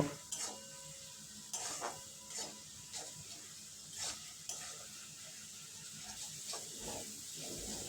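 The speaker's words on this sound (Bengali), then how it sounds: "সামান্য একটু জল দিয়ে ভালোভাবে মশলাটা" Masala being stirred and fried with a little water in a pan for street-style egg fried rice, with intermittent spoon scrapes against the pan over a faint steady sizzle, close and fairly quiet.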